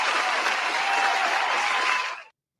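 A crowd applauds steadily for about two seconds, a dense, even wash of clapping that cuts off abruptly.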